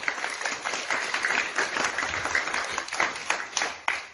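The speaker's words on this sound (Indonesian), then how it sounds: "Tepuk tangan untuk teman kita." A group of young people applauds a classmate after a public speaking turn, a close, uneven patter of hands with sharper individual claps standing out.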